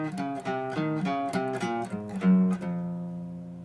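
A guitar plays a single-note melody exercise from a modern guitar method lesson, a run of about a dozen plucked notes in an even rhythm ending on a held note, fairly quiet and solo.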